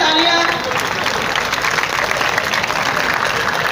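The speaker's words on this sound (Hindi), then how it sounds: "तालियां।" Audience applause fills a hall at an international Urdu conference held at an arts council, a dense, steady clapping from a crowd that holds at even loudness throughout with no talk over it.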